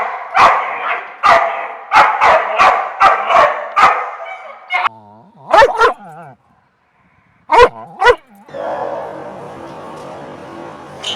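Aggressive dogs bark in loud, sharp bursts, a rapid run of barks, then whines and a pause, a couple more barks, and a final stretch of growling snarls, all close.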